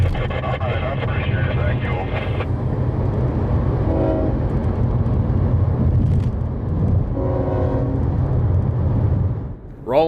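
A CSX coal train led by locomotive 902 rumbles past loud and close, its heavy low roar continuous, with short horn-like tones sounding twice and a voice heard over the din.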